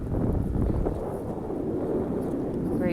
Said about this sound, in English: There's a little bit of a wind.